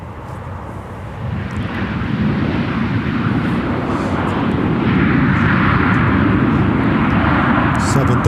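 A three-engine trijet airliner taxis at Minneapolis–St. Paul Airport, its broad jet engine rumble and whine swelling steadily louder as it approaches, with a person talking over the noise.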